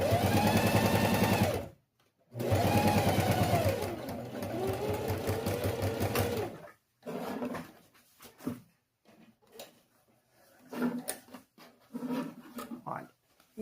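Sewing machine stitching a fabric lining for a zippered pencil case, running in several bursts of rapid stitching, loud and close, with pauses and quieter handling noises between runs.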